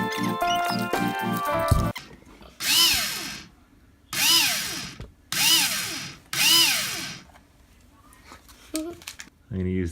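An electric drill whines in four short bursts while drilling holes for cup hooks, rising and falling in pitch, close by with pauses between, after a brief stretch of other noise.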